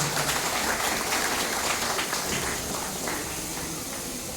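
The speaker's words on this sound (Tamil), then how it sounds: "மதிப்பிற்குரிய காவல்துறை உயரதிகாரி அவர்களை பலத்த கைத்தட்டலோடு எல்லாருமே அன்போடு வரவேற்கிறோம்" Audience applause greets a senior police officer at a gathering, a dense, even wash of many hands clapping that stays steady and fades only slightly toward the end.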